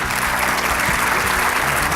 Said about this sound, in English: Let's give a you're round of applause.